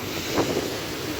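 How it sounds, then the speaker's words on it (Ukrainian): Black Sea waves and wind at the Odesa shore make a dense, rushing broadband roar with one brief swell of surf. The sound is close and even throughout, with no voices. "Подивіться, які хвилі тут."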